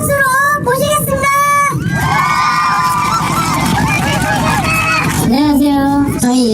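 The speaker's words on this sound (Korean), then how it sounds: "우리 대장님 큰 박수로 모시겠습니다" A crowd from a motorcycle riding club welcomes its leader with loud, excited cheering, high whoops and shouts, and honk-like tones that rise and fall over a constant roar of voices.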